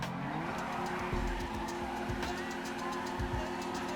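A car racing in the video game FiveM: a continuous loud engine drone with shifting pitch and squealing, skidding tires throughout, no voices.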